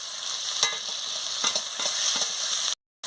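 Chopped tomato fries with spices for a spicy fish curry, a bright continuous sizzle broken by several scraping stirs of a spatula, close up, before a brief cut to silence.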